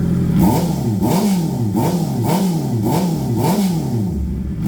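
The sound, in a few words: Honda CB650R E-Clutch motorcycle revving with full exhaust and dB killer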